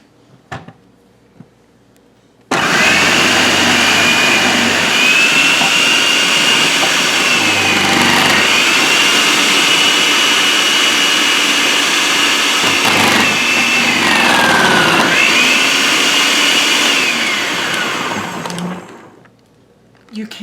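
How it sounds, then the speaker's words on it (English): Kitchen food processor shredding zucchini, a loud steady motor whir that starts abruptly, holds with slight pitch dips as pieces are fed in, then winds down; a few clicks before and after. "So today I'm going to shred this zucchini so I can get started on a recipe."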